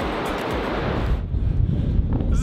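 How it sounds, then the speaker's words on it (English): Strong wind on a suspension bridge on the Everest Base Camp trek roars and buffets against the microphone, a constant heavy rush with gusty surges and no voices. "Wow, look how windy it is out there."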